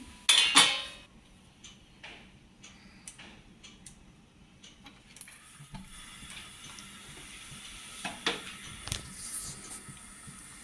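Metal kadhai handled on a stovetop as oil goes in for heating, preparing an elephant foot yam dish, with quiet clinks, a louder clatter at the start and scattered light taps throughout.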